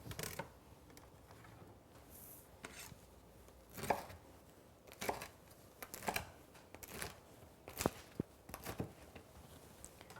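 A knife cutting straight down through a baked pumpkin biscotti log on a board, a series of separate crisp crunching chops at irregular intervals, close and fairly quiet with no talking.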